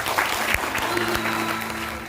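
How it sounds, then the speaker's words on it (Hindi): An audience at a leadership meet applauds as guests are welcomed, producing steady, dense clapping that fills the room for a couple of seconds. Faint voices sit beneath the claps. "एक जोरदार ताली स्वागत करें"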